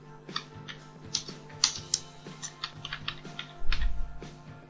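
A computer keyboard being typed on, an uneven series of close clicking keystrokes over a steady low electronic hum, ending in a short cluster of louder taps, with no talking.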